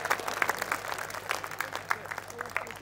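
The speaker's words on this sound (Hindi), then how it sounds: "ताली बजा के बताइए, हाथ उठाकर ताली बजा के बताइए।" Audience clapping at a Hindi poetry gathering (kavi sammelan), a steady patter of many hands across the clip with a speaking voice faintly underneath.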